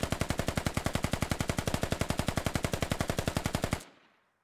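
Machine gun fire in the squad-based video game Squad, a fast, steady, loud burst of about forty rounds that runs for nearly four seconds and then cuts off, ending with a short fading echo.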